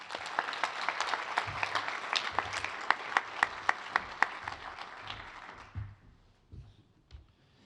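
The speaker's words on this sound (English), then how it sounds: "So join me in a round of applause for Deb." A crowd applauds steadily for several seconds at the 2024 CAS Awards ceremony, the clapping thinning out and fading toward the end.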